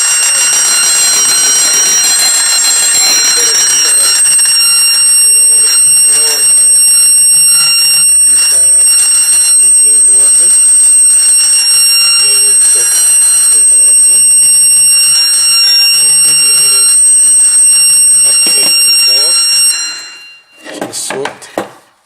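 A fire alarm system blares a loud, continuous electronic alarm tone after a break-glass call point is pressed, sustained for about twenty seconds before cutting off abruptly, with a few brief noises after it stops.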